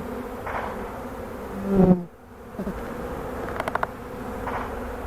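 Honey bees buzz steadily around open hive frames crowded with bees, a dense, continuous hum close by, with individual insects swelling louder as they pass near, and no talking.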